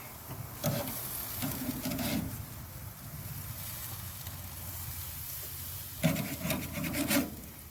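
Chicken wings being fried on a grill are flipped and shifted, producing soft scraping and rubbing over a continuous faint sizzle, with a couple of brief louder scrapes near the end.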